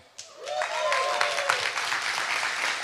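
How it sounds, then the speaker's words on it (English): An audience at an online fundraising event breaks into applause that swells after a sharp opening clap and holds steady and fairly loud, mixed with a voice talking over it. "Big applause for that."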